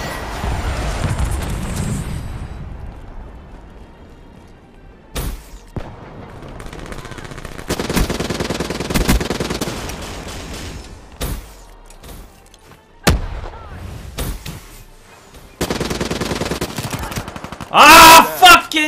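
Automatic gunfire in the video game Call of Duty Black Ops III, loud bursts of rapid shots separated by short pauses, with a low rumble early on and sharper cracks near the end.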